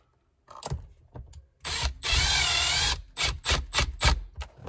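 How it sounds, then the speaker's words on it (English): Power drill driving two screws into plastic trim while installing a wireless charger in a 2015-2019 Duramax truck, with a sustained whirring run in the middle followed by several short, loud bursts of the driver close by. "Put these two screws in."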